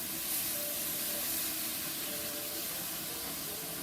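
Soy sauce sizzles on sunflower and sesame seeds toasting in a pan, a steady loud hiss and crackle that holds evenly throughout with no talking.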